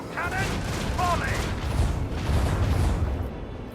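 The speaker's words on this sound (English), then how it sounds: "Macro cannon, volley!" Macro cannon volley fired from a starship in the Warhammer 40000: Rogue Trader video game, a dense rumbling barrage of booms lasting several seconds, heard with chirpy interface tones at the start and a voice under it.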